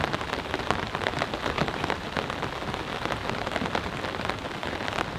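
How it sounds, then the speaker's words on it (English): Heavy rain drums densely on a camping tent during a strong mountain storm, a loud, close, unbroken patter of drops with no voices. "it is now raining."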